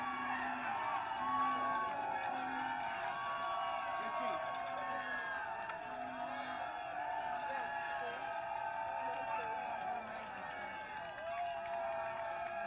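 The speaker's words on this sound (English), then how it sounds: "Look at the cheering section for this team." Spectators cheering at a Gay Bowl flag football game, Denver against Honolulu, a steady roar of crowd voices from the stands with talk over it and a faint repeating tone.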